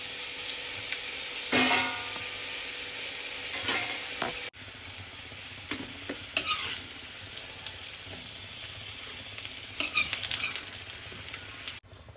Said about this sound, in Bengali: বন্ধুরা দেখো, আলুটা এবার ভাজা হয়ে গেছে আমার এদিকে